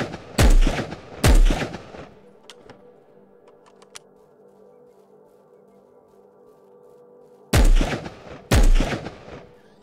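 Gunfire in the online survival shooter Will To Live Online: two loud close shots in quick succession, a long quiet stretch with faint background hum, then another pair of sharp shots.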